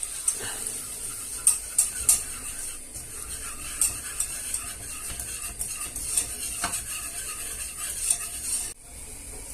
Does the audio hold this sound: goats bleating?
no